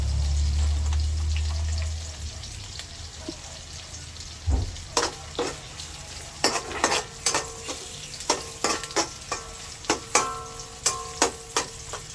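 Garlic and ginger sizzling in oil in a pan for a milkfish dish, with a steady frying hiss under repeated clinks and scrapes of a utensil stirring, close up and with no talking.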